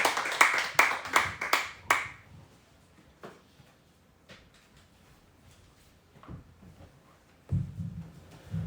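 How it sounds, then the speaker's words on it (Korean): Several loud, sharp hand claps ring out over the first two seconds in a church revival service, then give way to quiet room noise, a few soft knocks and a low murmur near the end. "하나님께 영광의 박수 올리도록 하겠습니다"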